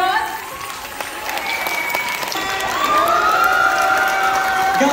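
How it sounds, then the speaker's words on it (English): Audience at a high school performance with a fashion show claps steadily and cheers, with whoops and shouts swelling louder toward the end. "Applause."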